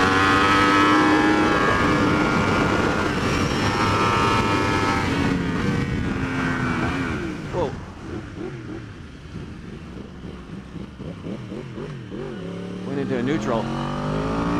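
A Yamaha R1 superbike from 2015 or later runs hard in third gear on a race track, its engine roaring loud and close amid wind rush, then dipping as the revs fall and rising again near the end.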